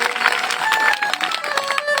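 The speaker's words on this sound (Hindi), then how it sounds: "जोरदार तालियां बजनी चाहिए।" Scattered clapping from an audience at a Hindu religious discourse on the Ram exile story, a brief patter of hands in a hall.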